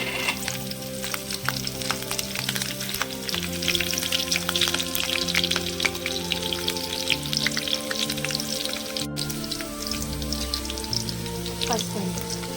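Cumin seeds and cut green chillies sizzle and crackle in hot oil in a pan, with steady close frying noise and scattered pops throughout.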